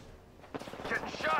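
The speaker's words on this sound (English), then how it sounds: "Getting shot at." Gunfire erupts in Apex Legends on the Broken Moon map, starting about halfway through as a rapid, close burst of shots that grows louder, with a voice talking over it.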